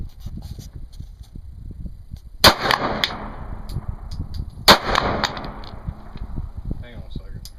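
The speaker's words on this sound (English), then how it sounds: "With a 9mm. it's a kill shot. 50 yards." Two sharp, loud gunshots from a 9mm handgun fired at a target 50 yards away at an outdoor range, each crack followed by a rolling echo, spaced about two seconds apart over faint background noise.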